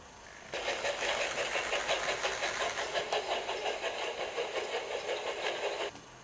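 A steam engine hisses and chuffs steadily for several seconds, starting and stopping abruptly, with no voices.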